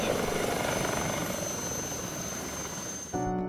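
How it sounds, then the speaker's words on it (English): A helicopter approaches a hospital in Haiti, its loud rotor and engine roar close and continuous through the stretch, with a sudden shift in the sound near the end. "here comes a helicopter. Incoming chopper, incoming."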